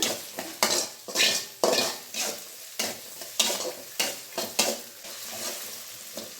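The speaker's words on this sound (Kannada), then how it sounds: "ಈರುಳ್ಳಿ ಬಣ್ಣ ಚೆನ್ನಾಗಿ ಚೇಂಜ್ ಆಗಬೇಕು ಅಲ್ಲಿ ತನಕ ಎಣ್ಣೆನಲ್ಲಿ ಫ್ರೈ ಮಾಡ್ತಿರೋಣ" Onions frying in oil for a tomato gojju, a steady sizzle punctuated by rhythmic, close spatula scrapes and clanks against the pan, roughly two strokes per second.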